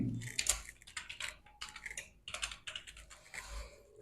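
Fingers type on a computer keyboard, entering a new password into an online application form, with steady fast quiet clicking of keys across the whole stretch and no talking.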